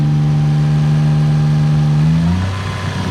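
A Lexus IS300 with a swapped 2JZ engine revs as its electronic throttle is pressed, giving a loud, close, sustained drone that holds steady and then drops in pitch as the revs fall, alone without talk.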